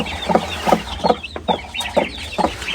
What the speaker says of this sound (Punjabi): ਇੱਧਰ ਵੀ ਬੜਾ ਸ਼ੋਰ ਹੋ ਰਿਹਾ। ਇੱਧਰ ਲੱਗਦਾ ਬਤਖਾਂ ਦੇ ਬੱਚੇ ਛੱਡੇ ਹੋਣੇ